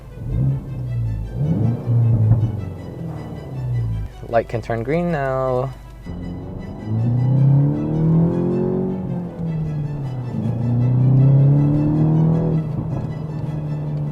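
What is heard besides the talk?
car aftermarket exhaust heard from inside cabin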